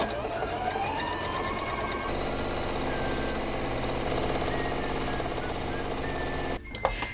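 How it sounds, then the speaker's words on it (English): A sewing machine stitches bias tape closed along pennant bunting, a steady continuous mechanical whir running for most of the clip before stopping near the end, with some talk mixed in. "We'll stitch it closed so that it doesn't unravel and that there are no raw edges."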